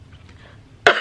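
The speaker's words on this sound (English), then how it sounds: "I got a bad cough too" A single sharp cough bursts out at the end after a moment of near quiet.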